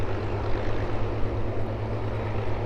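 A steady, loud propeller aircraft engine drones at East Midlands Airport, a continuous low rumbling hum heard close by throughout with no speech.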